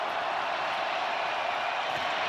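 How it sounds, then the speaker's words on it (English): Steady, dense roar of a packed NFL football stadium crowd during the Buffalo Bills versus Houston Texans game, a continuous bright wash of noise with no distinct peaks. "Crowd roaring."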